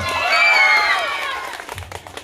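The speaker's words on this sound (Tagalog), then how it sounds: "Palakpak na may kasamang hiyawan. 1, 2, 3, go!" A crowd claps and cheers with high whoops and whistles, loud at first and fading into scattered claps after about a second and a half.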